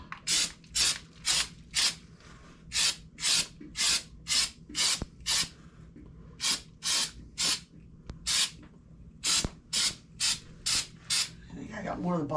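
Short bursts of aerosol spray paint onto a clear Lexan RC car body, about twenty rhythmic hissing pulses up close, with faint rustling and handling noises in between.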